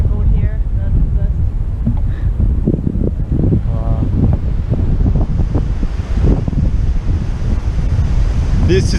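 Ocean surf at Uluwatu beach in Bali at sunset, a steady loud roar of breaking waves mixed with heavy wind buffeting on the microphone throughout.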